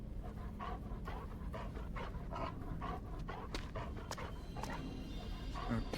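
A dog pants rapidly and steadily in the video game Until Dawn, close and continuous, with a few faint whimpers and game ambience behind it.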